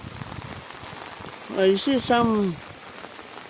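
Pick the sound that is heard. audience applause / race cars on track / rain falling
rain falling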